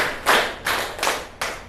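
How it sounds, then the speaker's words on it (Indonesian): A classroom of students clapping together four times in unison on the teacher's count, each clap a sharp, loud burst followed by a short decay. "tepuk empat"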